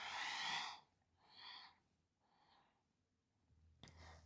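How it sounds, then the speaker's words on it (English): Slow, breathy exhales during a yoga exercise, three soft breaths at steady intervals close to the listener, each fading out, followed by a brief sharper intake at the end. "And exhale."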